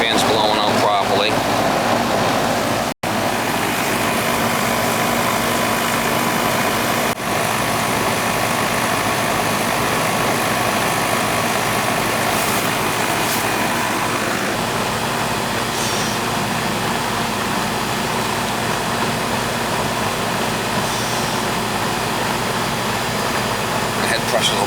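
An old Goodman air conditioner unit runs with its fan blowing, a steady close mechanical hum and whir that continues without a break, with a voice talking over it.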